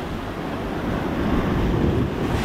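Ocean surf washes in steadily during a fishing session, a continuous broad rush of waves mixed with wind buffeting the microphone, close and fairly loud with no talk.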